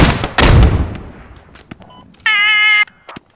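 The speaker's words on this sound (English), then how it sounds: "I got a frag. Frag out." Frag grenade exploding in the video game Squad: a loud, booming blast that rolls off into a decaying rumble, followed by faint clicks and a brief steady electronic tone.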